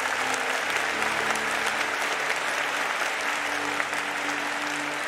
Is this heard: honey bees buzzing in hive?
no